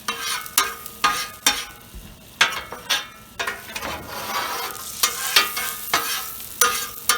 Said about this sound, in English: You want to scrape off some of the stuff